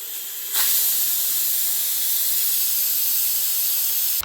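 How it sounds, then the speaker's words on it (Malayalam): A pressure cooker whistle releases a loud, steady hiss of steam after a brief quiet start, holding unbroken for several seconds before cutting off. "ഒരു വിസിൽ വരുന്നവരെ കാത്തിരിക്കാം"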